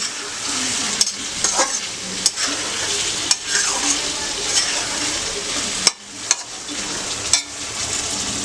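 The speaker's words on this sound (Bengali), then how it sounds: "এই মশলা দিয়ে সবজিগুলোর সঙ্গে ভালো মতো কষিয়ে নেব।" Mixed vegetables sauté with spices in a pan, producing a bright, steady sizzle broken by a series of sharp spatula knocks and scrapes at a regular pace.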